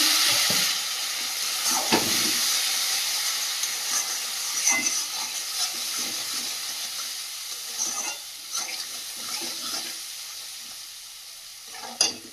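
Spice masala for a country chicken curry fries in a pan with a steady, close sizzle and hiss, broken by occasional stirring scrapes and one sharp knock near the end, with no one talking.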